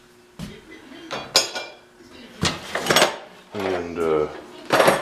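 Items being cleared off a kitchen counter during a renovation, with several sharp clanks and clatters of pots, pans and metal pieces in separate bursts and quiet gaps between them.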